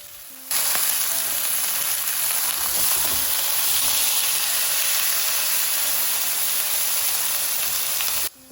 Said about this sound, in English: The sound of that sizzle is the sound of the flavour locking right in.